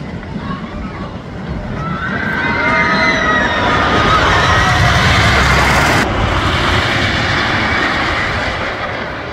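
Megafobia, a wooden roller coaster at Oakwood theme park after dark, thunders past as a rising and fading roar that peaks mid-pass, with crowd voices and chatter mixed in.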